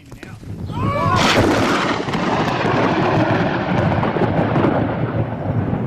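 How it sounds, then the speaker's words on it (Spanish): A loud crack of thunder breaks into a long, deep rumble that rolls on steadily without fading. "el trueno, es decir, el sonido que produce"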